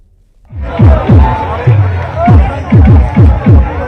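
Large crowd of devotees on the second day of a Hindu padyatra from Bageshwar Dham, with loud, close, overlapping shouts and chanting voices rising in repeated bursts over a busy murmur.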